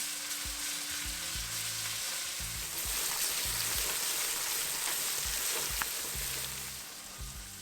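Ginger garlic paste frying in a pan, a steady dense sizzle with a few soft low knocks, close and continuous, with no talking.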